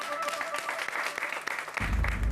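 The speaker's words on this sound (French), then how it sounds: "Allez, applaudissements" A crowd applauds for a celebrity, a short burst of clapping with some voices mixed in.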